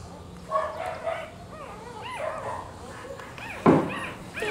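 Rottweiler puppies whimper and squeak while nursing: a series of high, wavering whines and yips close by, some overlapping, with a louder squeal near the end and faint voices in the background.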